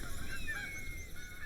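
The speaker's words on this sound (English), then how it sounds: "Just because I said I hadn't heard any geese in a while does not mean I wanted to hear geese." Geese honk faintly in the distance in The Hunter: Call of the Wild, a few brief calls over a soft outdoor ambience.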